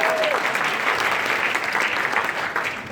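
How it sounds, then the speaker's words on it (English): Lively applause from a seminar audience in Brisbane greets a man asked to stand. The dense, close clapping holds steady for a few seconds before easing slightly at the end. "Can we give Stephen a round of applause?"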